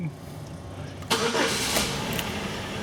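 A Chevrolet Malibu engine cranks and catches, then settles into a running hum, heard close by.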